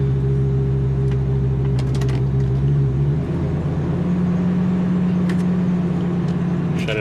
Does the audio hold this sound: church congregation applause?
no